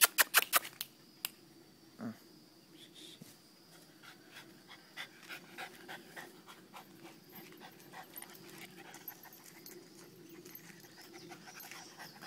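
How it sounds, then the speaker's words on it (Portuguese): A dog pants quickly and steadily close by for several seconds while its claws and body knock and scrape as it moves around, with a few sharp taps at the start and a faint whimper. "Não dá pra filmar cachorro assim, não."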